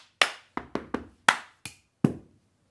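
Seven sharp, crisp hits land in a quick rhythmic pattern as hands clap and plastic cups are tapped and set down on a table in the cup song, each hit loud and close, separated by silence.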